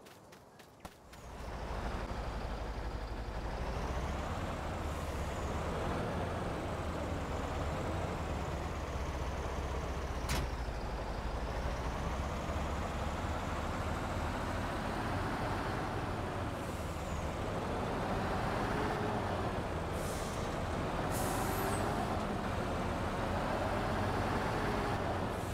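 A heavy truck drives steadily in Farming Simulator 19, a loud continuous engine drone with rumbling low end, and a brief hiss like an air brake about ten seconds in.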